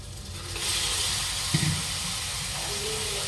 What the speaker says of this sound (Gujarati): રાઈ જીરું લીમડો વઘાર કરી નાખ્યો ને મરચું નાખી દેવાનું